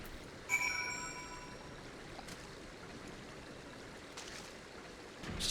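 Water flowing gently in Final Fantasy XIV, a steady soft trickling stream under faint ambient tones and a brief chime near the start.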